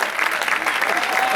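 Brief burst of dense crowd applause at a padel exhibition, loud and close, with a voice cheering over the clapping.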